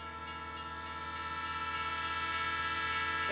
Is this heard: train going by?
yes